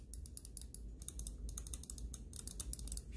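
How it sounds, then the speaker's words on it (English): Repeated sharp clicks from an MM710 computer mouse after a click wobble and post travel fix, quick irregular bursts close to the mic with no talking. "Make sure the mouse is clicking."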